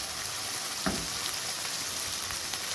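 Garlic and ginger frying in a pan for beef karahi, giving a continuous close sizzle with a soft stir or scrape near the start.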